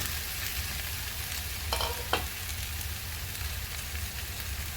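Potatoes frying with light-brown onions in a pan for aloo palak. A soft, steady sizzle is heard with a couple of brief stirring scrapes and no talking.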